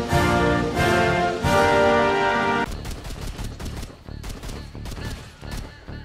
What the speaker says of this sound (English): I shot it with a gun.